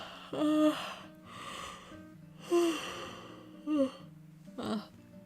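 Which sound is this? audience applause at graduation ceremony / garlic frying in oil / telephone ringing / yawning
yawning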